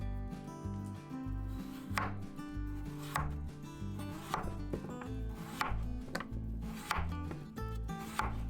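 A knife slices a peeled russet potato on a cutting board, making about six crisp, evenly spaced chops over steady background music.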